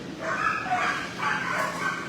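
A dog in a shelter kennel lets out a drawn-out, wavering howl-like whine in two or three rising phrases, close and fairly loud, with no talking over it.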